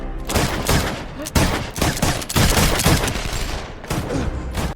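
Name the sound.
gunfire in the film Mission: Impossible - Fallout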